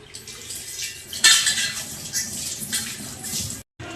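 An iron kadai is rinsed with water at a kitchen sink, metal clanking and scraping against the pan amid splashing and running water, close and fairly loud, with a brief silent gap near the end.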